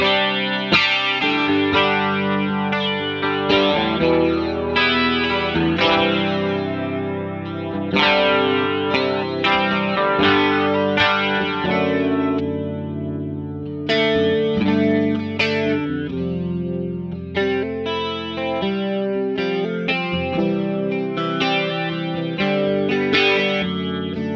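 An electric guitar plays a clean tone through a Boss DC-2w Dimension C chorus pedal on setting 1, strummed chords and picked notes with a wide, shimmering wash sustaining continuously and prominently, with no voices.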